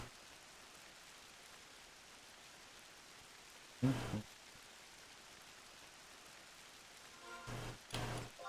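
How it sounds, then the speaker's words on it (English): Steady rain in the Final Fantasy XI game world, a soft, even hiss running throughout at moderate level, broken by a couple of brief louder bursts of other game sounds. "Rainy."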